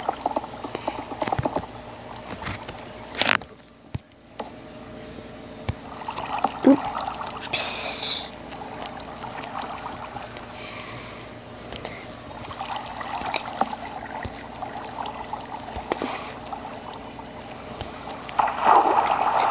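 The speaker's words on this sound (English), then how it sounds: "That's your whirlpool." Water swirls and churns in a homemade whirlpool, a steady bubbling, trickling wash with small splashes and gurgles over nearly twenty seconds.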